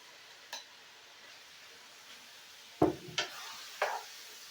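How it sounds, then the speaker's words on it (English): Homemade meatballs being stirred into homemade marinara sauce, a faint low simmer broken by a light clack early on and three louder spoon-against-pot knocks near the end. "Stir it all up."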